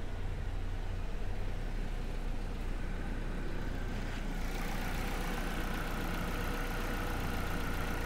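A car engine idles at steady RPMs in a continuous, even rumble with no change in pace, recorded up close with no voices.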